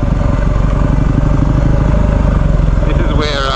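A Yamaha WR250R or Honda CRF250L dual sport motorcycle pulls in first gear on a trail near York, its engine a steady, loud, close pulsing drone throughout, with a voice speaking briefly over it near the end.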